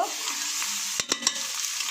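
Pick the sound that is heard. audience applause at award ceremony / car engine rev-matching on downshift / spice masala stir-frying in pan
spice masala stir-frying in pan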